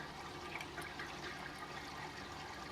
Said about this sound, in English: what you would do is just drain the water out